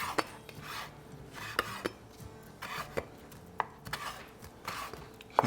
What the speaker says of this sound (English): I'm using my tongs to cut these up because they're still hot